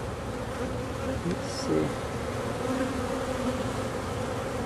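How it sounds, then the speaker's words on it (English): A swarm of mellow honeybees drones steadily and close during a bee removal, with a soft, even buzz throughout and one brief spoken phrase over it. "these are mellow bees"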